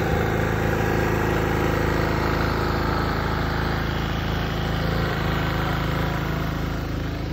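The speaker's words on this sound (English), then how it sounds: "the generator's going low on gas. It's getting ready to shut off again" A small generator engine runs low on gas, a steady loud drone that holds without pause or change across the whole stretch, heard up close with no voices.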